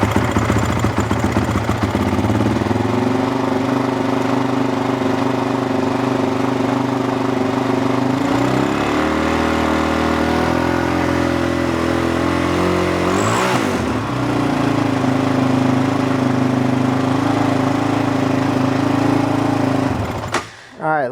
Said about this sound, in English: So we're going to fire it up and then I'll shut it off